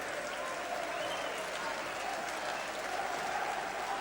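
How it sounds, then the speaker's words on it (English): Crowd applause at a football stadium as Nottingham Forest parade their trophy after the Centenary Tournament final, a steady, broad roar of clapping, with a commentator's voice faintly over it. "they're applauded by the losers"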